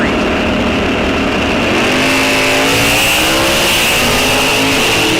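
Two drag race cars launch off the line at a raceway, a loud, continuous roar of engines climbing in pitch as they accelerate away.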